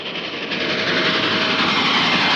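A freight train rolls past close by, a loud, steady wash of rumbling and rattling wagon noise that holds constant and swells slightly over a couple of seconds, with no voices.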